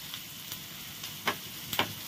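Chopped green chillies stirred in a frying pan give a soft, quiet sizzle broken by a few distinct spatula scrapes and taps, no talking.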